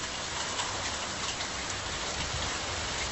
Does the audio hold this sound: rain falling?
yes